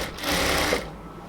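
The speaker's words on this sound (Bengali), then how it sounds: "পুরোটা কোমরে এলাস্টিকের পাশ দিয়ে সেলাই হচ্ছে একদম ফিনিশিং করে।" A sewing machine stitching along the waist elastic of a salwar runs in one short, fast, steady burst of close needle chatter, then stops.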